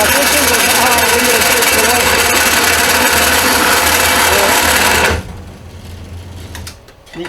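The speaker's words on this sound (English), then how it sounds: "This blade is really too coarse to be cutting this thin of material." Saw fitted with a coarse blade cutting thin plate steel in a shop, a loud continuous grinding roar for about five seconds that cuts off abruptly, followed by quieter mechanical noise.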